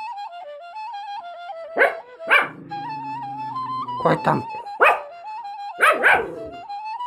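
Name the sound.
dog barking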